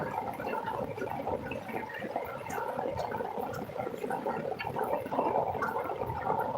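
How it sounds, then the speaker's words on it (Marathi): A flooded Konkan stream swollen by heavy monsoon rain rushes in a dense, steady roar of churning water, close and unbroken throughout. "बघू शकता जोरदार पाणी इलेला व्हाळाक आणि महापूर इलेलो"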